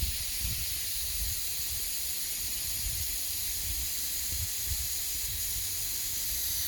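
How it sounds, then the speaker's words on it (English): Air escaping from a section of a portable mast as it lowers, a continuous steady hiss held evenly and fairly near, with low rumbling underneath and no talk. "press it halfway in, let the air come out"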